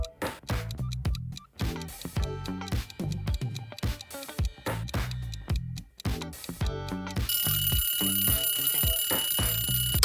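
Quiz countdown timer effect: rhythmic, repeated ticking and alarm-like tones with steady beats for several seconds, then a sustained bright ringing buzz to the end, loud and alone with no talking.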